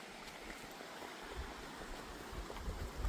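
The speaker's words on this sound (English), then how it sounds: "We're back to the river again." River water flowing steadily along a hiking route in Montana, a continuous broadband rush heard close and moderately loud throughout with no voices.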